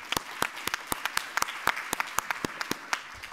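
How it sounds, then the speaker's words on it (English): Sparse claps from a small group at an academic group discussion, a dozen or so distinct hand claps spaced irregularly, fairly near and unaccompanied by talk. "Meg and crew and Josh should give them a round of applause for all the work they've done here"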